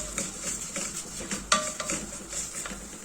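Vermicelli stirred as it fries in a pot, a spoon scraping and clinking against metal in repeated strokes, with soft sizzling underneath and one sharper clank midway, close and fairly quiet.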